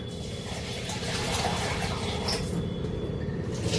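Water pours steadily into a container of dosa batter, a continuous close-up liquid rush with a slight swell midway and no talking.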